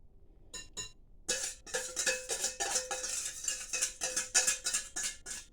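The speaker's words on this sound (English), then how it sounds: "I'm gonna add the eggs" Eggs being added to a mix of white granulated and brown sugar for a banana fruit cake, giving a run of close, busy clinks and taps of utensils against a bowl after a quiet start.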